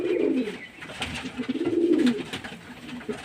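Pigeons coo in low, soft, rolling bursts while eating paddy scattered on the floor indoors, the cooing close and steady with small pecking and rustling sounds between calls.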